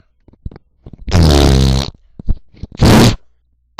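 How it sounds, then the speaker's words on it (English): Two loud, drawn-out, buzzing fart noises come from a pair of cartoon cats in a Hot Pocket commercial, separated by scattered soft clicks and rustles. "It's about these two cats, and they totally fart."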